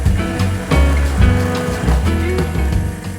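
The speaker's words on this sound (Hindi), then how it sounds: "मेरे पास वो स्टिक ब्लेंडर है, इसलिए मैं पानी डालने के बाद भी इसका पेस्ट बना सकता हूँ।" A stick blender purees an onion and tomato gravy with added water into a paste, a loud, close, churning motor whir with sloshing bursts as the blade moves through the liquid.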